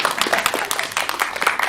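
Audience applause after a talk at a CTF security event, a brief dense patter of many hands clapping together at a steady level.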